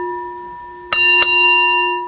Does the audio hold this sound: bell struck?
yes